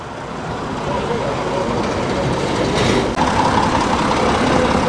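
An AEC truck with an Ergomatic cab gives a steady gear whine over a continuous engine drone, loud and close, with a brief dip near the three-second mark.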